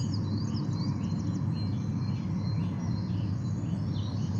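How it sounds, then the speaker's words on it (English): Great tit giving its honking, car-horn-like song in the background of a garden dawn chorus, repeated high notes over constant low rumble with other birds calling faintly. "The one that sounds like a car horn in the background is great tit."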